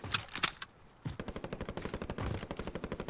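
Video game firefight between teams: rapid bursts of automatic gunfire, first scattered sharp shots, then a long steady rattling volley at an even fast rhythm, moderately distant and with no talk.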